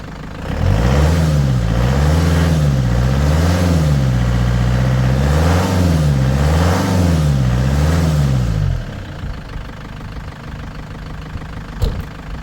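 A loud engine runs close by with a rhythmic wavering drone for about eight seconds, then cuts off to a quieter background hum.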